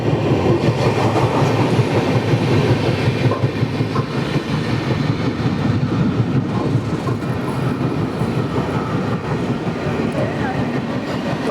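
Aboard the Saurashtra Janta Express as it runs through Boisar station without stopping, a loud, steady rumble with rhythmic wheel clatter continues throughout, with faint voices underneath.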